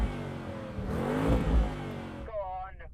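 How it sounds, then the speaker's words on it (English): A Porsche V8 engine revs up and falls back once, a loud rising and falling roar close by, with a brief voice near the end. "Start with this Porsche."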